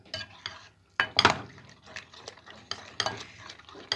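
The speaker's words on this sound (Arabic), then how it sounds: "نقلب نقلب كده عشان الدقيق ما يكلكعش معانا." A flour mixture is stirred in a pan, with repeated scraping strokes and light clinks of a utensil against the pan, close and fairly quiet.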